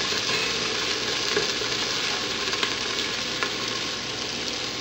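Chopped onion sizzles and fries steadily in a hot pan while being stirred, an early step in cooking pork tinola; a dense, continuous crackle close up with occasional scrapes, no talking.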